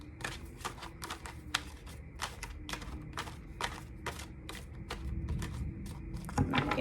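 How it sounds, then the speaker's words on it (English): A deck of tarot cards being shuffled up close, a rapid series of crisp riffling bursts in a quick irregular rhythm over soft background noise. "Enjoy some ASMR of shuffling."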